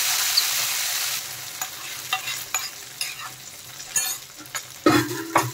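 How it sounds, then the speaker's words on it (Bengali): Vegetables being stirred with a fried spice tempering in a pan make a sizzle with scraping stirs at irregular intervals, near and alone, ending in a louder clatter. "এখন ভালোভাবে নেড়েচেড়ে আমি সবজির সাথে মিশিয়ে দেব"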